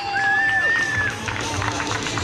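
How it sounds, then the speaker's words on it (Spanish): A crowd at a trail race awards ceremony in Gondomar cheers and claps for the second-place runner, with whistles and lively chatter over scattered applause. "un aplauso para ella."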